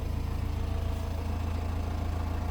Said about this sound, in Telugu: ఇంజన్ స్టార్ట్ అయింది.